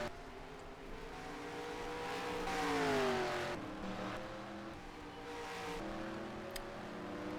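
Sports cars racing in the Canadian SportsCar Grand Prix: engines drone at a distance, and one car's pitch rises and then falls as it accelerates and passes, with steady track noise underneath.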